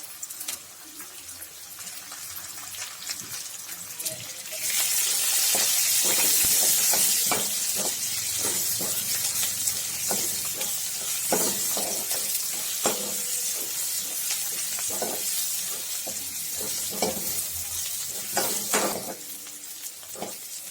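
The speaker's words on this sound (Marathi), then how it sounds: "कांदा थोडा लाल झाला की आपण टाकायचं त्याच्यामध्ये लसूण टाकायचा आहे बारीक केलेला" Chopped garlic added to browned onion frying in a pan for black urad dal, with a sizzle that swells sharply after a quieter start, then continues steady under repeated stirring scrapes and spoon knocks.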